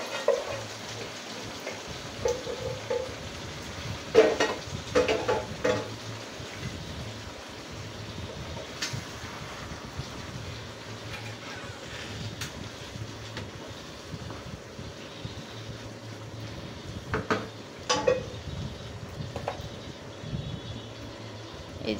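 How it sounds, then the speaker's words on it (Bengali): Beef tripe stirred and fried with crisp fried onions in a pan gives a steady low sizzle, with scraping stirs and a few louder clanks of the spatula against the pan. "এই যে এবার আমি ভালো করে নেড়ে চেড়ে এটাকে ভাজা ভাজা করে নিব"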